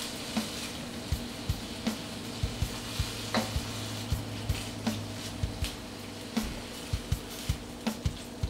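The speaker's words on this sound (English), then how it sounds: "And then you want to start stirring the noodles up quickly." Pad Thai noodles are stirred and fried in a pan, a soft steady sizzle under regular tapping and scraping strokes of a utensil, quiet and close.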